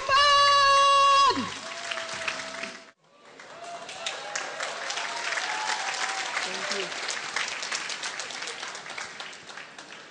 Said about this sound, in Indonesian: segera beri aplaus yang tulus kepada Dr.